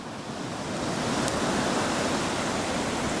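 Steady sea surf washes onto a white-sand beach in Barbados, a continuous close-up hiss and rumble of breaking waves swelling slightly, with no voices.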